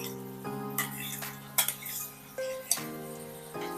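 Ground masala paste is scraped with a metal spoon from a utensil into a kadhai for a soybean curry, giving faint, scattered metallic clinks and scrapes with short ringing tones.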